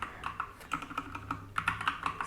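Someone types on a computer keyboard in a quick, irregular run of close, crisp keystrokes with brief pauses between bursts, and no voices.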